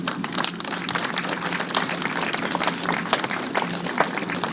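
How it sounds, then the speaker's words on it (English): An audience at a press conference about the Detroit to Ann Arbor rail line applauds, with dense, steady clapping from many hands filling the room and holding at an even level throughout. "Give yourselves a round of applause."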